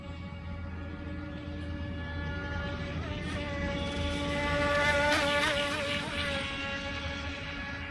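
A Feilun FT016 RC speed boat's small motor whines steadily at a high pitch, rising slightly in loudness midway as the throttle is trimmed up, with faint background hiss and no talking.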